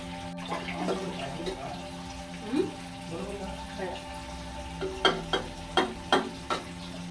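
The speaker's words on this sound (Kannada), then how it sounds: "ಇವಾಗ ಪಾತ್ರೆ ತೊಳೆಯೋ ಕೆಲಸ ಇದೆ ಫಸ್ಟು ಪಾತ್ರೆ ತೊಳ್ಕೊಂಡು" Dishes clink and clatter in a sink under a running tap, over a soft wash of water, ending in a quick run of sharp knocks close by.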